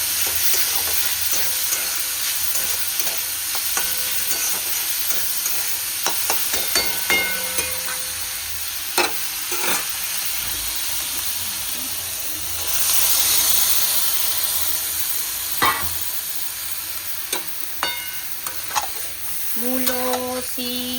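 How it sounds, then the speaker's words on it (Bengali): Shrimp fry in a pan with a constant hissing sizzle, punctuated by stirring scrapes and clinks, up close with no talking. "এটা আর এই চিংড়ি মাছটা ভেজে রেখে দিই।"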